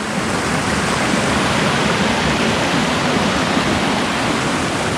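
A river stream near Semuncar waterfall on the slopes of Merbabu, Boyolali, rushes in a loud, constant broadband roar, close and unbroken, with no voices.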